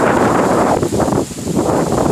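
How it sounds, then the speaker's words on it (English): Strong wind of about 24 miles an hour buffets the microphone while fishing for crappie, a steady roar rising and dipping in gusts, with no one speaking. "It's so windy."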